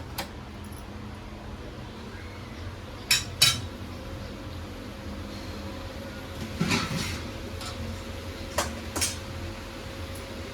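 A lid set onto a cooking pot of jackfruit vegetable curry in a home kitchen: a few light metallic clinks and taps, spaced apart over a quiet room hum.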